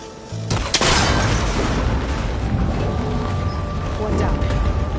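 A single shot in Horizon Forbidden West snaps a cable connector on a rickety ancient tower, a sharp crack followed by a loud booming burst and sustained rumbling clatter, with speech mixed in.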